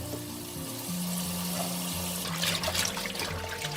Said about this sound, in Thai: แล้วเราจะล้างน้ำที่สองนะคะ